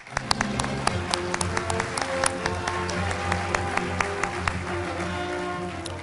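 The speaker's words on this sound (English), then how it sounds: "please join me in a round of applause for his achievement" Applause from an audience at an awards breakfast, a steady dense patter of many hands lasting throughout, with background hum and scattered sharper claps.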